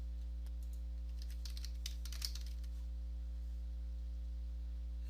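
Light keystrokes on a computer keyboard typing a short word, a quick cluster of soft clicks over a steady low electrical hum, no voices.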